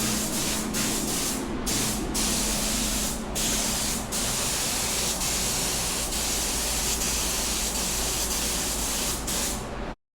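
Sealer sprays in a steady loud hiss over a custom painted surface, continuous for about ten seconds with a few brief breaks early on before cutting off sharply.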